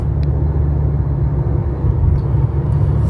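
Low, steady road rumble from inside a moving car, a constant engine and tire drone that is loud and close, with faint clicks and no talking.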